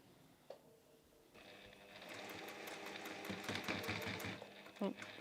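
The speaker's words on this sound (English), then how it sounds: "We're going to sew 1/4 inch seam through those layers." Sewing machine stitching a quarter-inch seam through pinned layers of a reversible quilt-as-you-go quilt, a steady close mechanical whirr with a rapid needle rhythm that builds after a quiet start, with a voice speaking over it.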